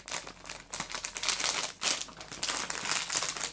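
Thin plastic bag crinkling and rustling as it is handled up close, a continuous scratchy crackle with uneven bursts and no talking.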